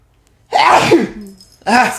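A single loud sneeze bursts out, followed a moment later by a short spoken reply nearby.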